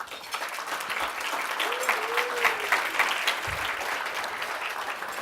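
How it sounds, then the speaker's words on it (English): Steady applause from a conference audience at an opening forum session, a sustained dense clapping that stays even from start to finish. "A big round of applause for our sponsors"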